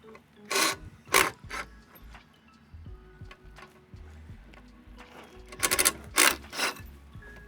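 A ratchet wrench clicks and rasps in short bursts while bolts are loosened on outdoor wooden stairs under construction. The sound is close and comes in uneven pairs and clusters with gaps between them.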